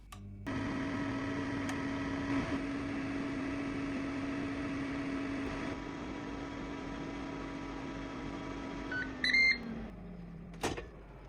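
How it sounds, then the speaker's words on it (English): An air fryer running at 350°F with a steady, even mechanical hum and fan whir for several seconds, then winding down and giving a short series of electronic beeps near the end; close and alone. "Air fry at 350 degrees Fahrenheit for 6 minutes."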